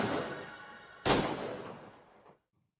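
Pistol shots in a film scene, a loud sharp report cutting through a ringing, echoing tail that fades before silence.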